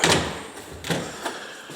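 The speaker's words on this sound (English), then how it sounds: "we shaved quite a few of the doors in order to make them open and close properly" A repaired, shaved interior door in a house being rehabbed in northwest Detroit swings and shuts, giving a few sharp knocks and clicks spaced through a short, fairly close stretch with no speech.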